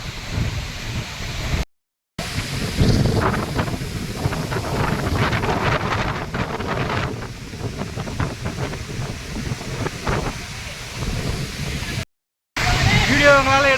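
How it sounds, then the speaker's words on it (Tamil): Strong wind roars at Agaya Gangai waterfall in the Kolli Hills, a loud continuous buffeting rush mixed with falling water that fills the microphone, cut by two brief silent gaps. "காத்து பலமாக வீசுது."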